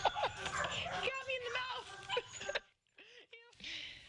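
Small dogs at a pet vacation resort yip and whimper in short, excited bursts, close by and mixed with background chatter, then a couple of high whining yelps after a brief pause.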